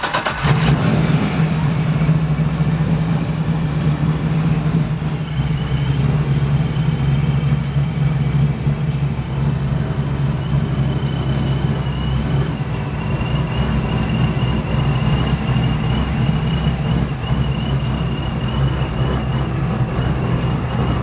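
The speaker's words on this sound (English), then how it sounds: "so I'm going to fire it up and we'll see what happens" An LS-swapped car engine with aftermarket LS2 fuel rails runs steadily at a loud, constant idle with a deep low rumble throughout, close by.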